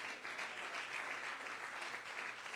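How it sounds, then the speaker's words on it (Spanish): Church congregation applauding in praise: steady, dense clapping from a crowd that holds evenly throughout without a break, fairly soft and somewhat distant, with no voices standing out over it. "Denle el aplauso al Señor si usted se lo quiere dar."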